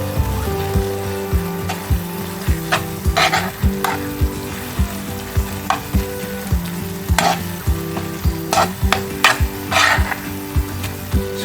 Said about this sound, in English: So this time we are going to stir it very well.